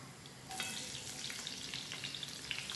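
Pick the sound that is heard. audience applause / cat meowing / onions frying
onions frying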